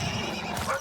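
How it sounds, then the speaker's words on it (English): A horse in a video game neighs sharply while under attack by a pack of wolves, a close, loud whinny with hoof clatter around it. "Are they attacking that horse?"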